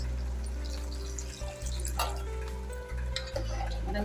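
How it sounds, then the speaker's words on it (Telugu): Water poured into drumstick curry simmering in a pan, a steady watery pour with soft stirring and dripping, a few brief dips in level, with no voices. "మనం మిక్సీ చేసుకున్న దాంట్లోనే కొన్ని వాటర్ వేసి యాడ్ చేసేస్తాం"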